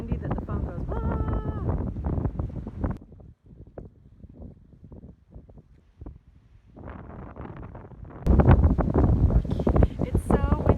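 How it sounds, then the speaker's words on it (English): Strong gusts buffet a phone microphone at Shelter Bay Marina in Panama, roaring in loud bursts that drop away briefly before surging back harder, with people talking in between. "It's so windy I can't film."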